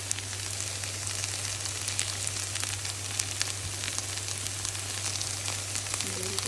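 Okra frying in a pan with chili powder while being stirred, a steady, even sizzle with crackles throughout and no talking.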